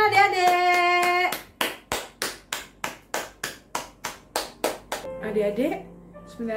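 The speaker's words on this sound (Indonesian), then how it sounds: "Tepuk tangan adik-adik." Children clap their hands at a Sunday school service, about a dozen evenly spaced, sharp claps in a steady rhythm, with singing and music before and after.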